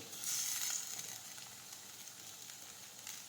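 Chopped tomatoes and grated ginger sautéing in a pan for aubergine bharta, a soft, steady sizzle that flares briefly at the start and then settles into a quiet, continuous hiss.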